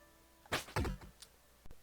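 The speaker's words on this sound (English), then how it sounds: "you cut the rope of the hacksaw and you hear a thud of something hitting the ground below" In the Night Manor game from UFO 50, an object drops and lands with a dull thud after a rope is cut, followed by a couple of softer knocks in an otherwise quiet scene.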